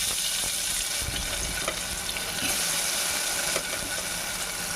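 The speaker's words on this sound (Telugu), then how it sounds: "బాగా ఫ్రై చేసుకుందాం వాటిని." Paneer pieces fry in hot oil in a pan, giving a steady, dense sizzle and crackle that runs without a break, with occasional light knocks and no talking.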